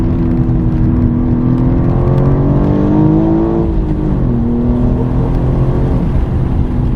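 A manual BMW M4 G82 engine revs and accelerates steadily, its rising, droning exhaust note loud and close throughout, with no talking.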